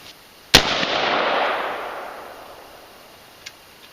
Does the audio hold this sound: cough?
no